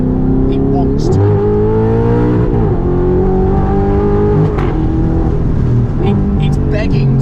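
Audi R8 engine pulling hard under acceleration, a loud close rising-and-falling tonal drone as the revs climb and shift, with a person talking over it inside the car.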